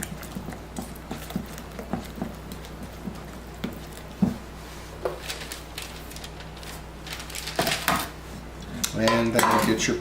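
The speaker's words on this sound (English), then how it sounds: "At this point, get your rubber spatula. Make sure you get from the bottom. Make sure you thoroughly mix it." A rubber spatula scrapes and clinks through chili beans in a pot as they are mixed from the bottom, scattered soft knocks and scrapes building into a denser, quicker stirring toward the end, faint and close.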